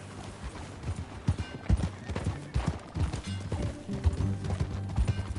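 Horse hooves clip-clopping at a steady riding gait in Red Dead Redemption 2, rhythmic thuds close by with an occasional whinny and faint background sounds.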